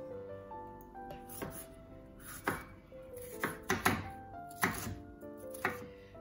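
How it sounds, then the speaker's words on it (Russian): Knife slicing peeled sweet bell peppers into thin strips on a cutting board, a series of crisp close chops coming in small uneven clusters, alone without talk. "И нарезаю тонкой соломкой."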